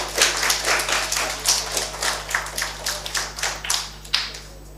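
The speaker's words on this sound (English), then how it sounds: "Let's give him a round of applause." Audience applause at a spelling bee competition, a dense patter of many hands clapping steadily for nearly five seconds with small swells, fairly close and without talk.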